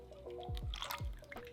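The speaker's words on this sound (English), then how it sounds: "You see that little drip?" Liquid ingredients such as buttermilk, honey, oil and melted butter drip into a bowl of batter, giving a few soft, quiet plops close by against a low background.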